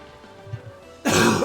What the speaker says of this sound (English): the sound of that kind of cough.